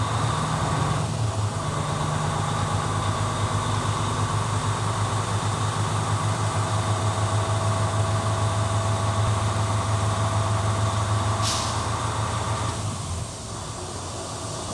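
A heavy truck engine idles and runs at raised revs while the air compressor builds brake pressure, making a loud, steady low rumble with a continuous droning hum and a brief hiss near the end.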